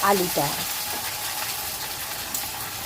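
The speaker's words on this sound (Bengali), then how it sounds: "আলুটা দেওয়ার পর আমি সব কিছু ভালো করে মিশিয়ে নিচ্ছি।" Cut potatoes hit hot oil seasoned with dried red chillies and five-spice, giving a loud sizzle and the scrape of stirring at first, then a steady crackling fry, while a voice speaks briefly at the start.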